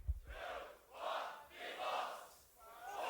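At a solo beatbox battle, the crowd roars in three swelling waves of cheering, each rising and falling roughly once a second, heard at a distance as through a recording.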